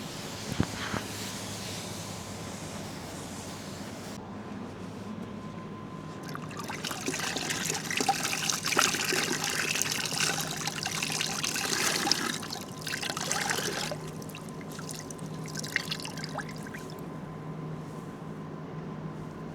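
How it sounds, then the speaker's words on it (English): Wet wash mitts being wrung out by hand beside an aircraft on a ramp, water trickling and dribbling in a steady, soft stream for a long stretch, with louder splashy bursts in the middle and no talking. "We're going to be wringing them out here"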